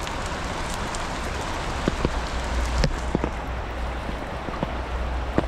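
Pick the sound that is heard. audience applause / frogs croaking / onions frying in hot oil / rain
rain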